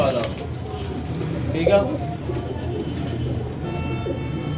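A flock of about thirty Teddy pigeons kept in breeding pairs coos softly and repeatedly nearby, while someone talks over the birds throughout.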